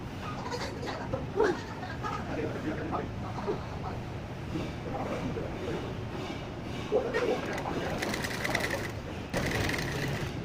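A sewing machine stitches an Afghani salwar in bursts of fast mechanical whirring, fairly quiet and intermittent, with soft handling noises in between.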